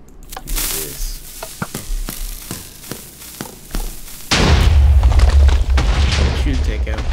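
A Minecraft TNT cannon fires at a wall, giving a series of sharp thumps followed by a loud rumbling explosion that lingers, with a voice talking over it.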